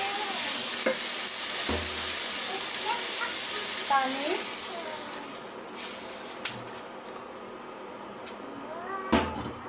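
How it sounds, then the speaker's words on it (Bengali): Papaya curry in a pan, with water just added, is stirred steadily, giving scraping spoon strokes over a soft sizzle and a few clinks. "পানি দিয়ে ভালোভাবে নেড়ে চেড়ে মিশিয়ে দেব"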